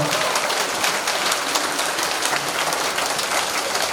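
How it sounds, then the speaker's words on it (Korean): A lecture audience applauds steadily in welcome, a dense wash of clapping that stays loud and even throughout. "여러분 뜨겁게 박수로 환영해 주시면"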